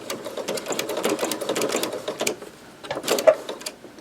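A sewing machine runs in short bursts and pauses while stitching a seam to repair a worn towel, its rapid needle chatter steady and close, with no talking.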